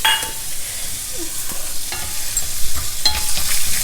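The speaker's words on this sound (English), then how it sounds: "Fry the peanuts well." Peanuts frying in oil give a loud, close, continuous sizzle with crackling pops and light stirring throughout, no talking.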